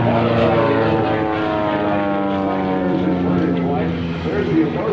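F-260 Warrior propeller aircraft flying past at a NAS Lemoore airshow, a sustained buzzing engine drone with a steady pitch that slowly fades, under an announcer's commentary.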